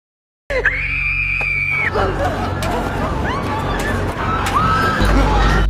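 Players in the Squid Game series scream shrilly during the killings, with a chaotic crowd din of yells and shouts rising over heavy rumbling noise.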